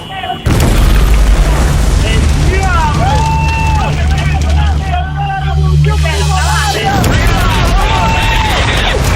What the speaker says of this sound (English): the tanker truck explodes.